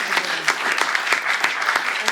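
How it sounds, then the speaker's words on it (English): An audience at a National Library of Scotland panel discussion applauds the panel. The clapping is loud, close and continuous, with a few distinct sharp claps standing out above the crowd. "Shall we then just have a general round of applause for our fantastic panel?"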